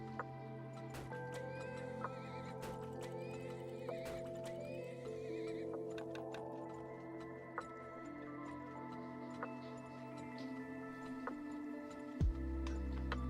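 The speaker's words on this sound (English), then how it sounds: "Gonna have to start buying like horses now." Horses in a video game whinny several times over a steady clip-clop of hooves, with sustained tonal game sounds underneath and no talking.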